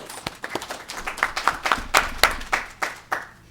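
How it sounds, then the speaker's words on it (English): A lecture-hall audience breaks into applause for a departing speaker at a panel event: dense, uneven clapping with sharp individual claps standing out, steady and fairly close, with no talk over it. "Let's have some applause for Yael"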